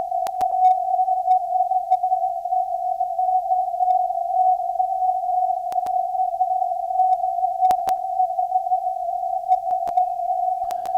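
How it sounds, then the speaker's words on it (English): A 10 GHz radio beacon received 122 km away comes through a receiver as a continuous steady tone with faint hiss, broken by a few brief sharp clicks of static. "This is a beacon that's 122 kilometers away from me, and here's a sample sound."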